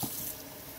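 Water runs from a tap into a pan while gravy is being made, a faint steady splashing hiss with a brief louder gush at the start.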